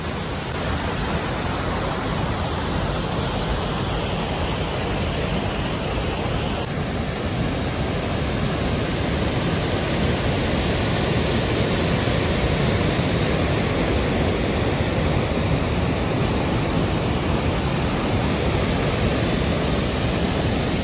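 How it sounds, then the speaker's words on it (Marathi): Broad, steady rushing of a waterfall near the Shree Dhutpapeshwar temple at Rajapur, Ratnagiri, close and loud, continuing unbroken throughout with no voices. "इकडे आहे पाठी आहे श्री दुर्गापेश्वर धबधबा"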